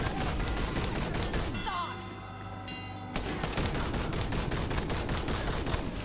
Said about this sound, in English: That's right, it was a warning shot.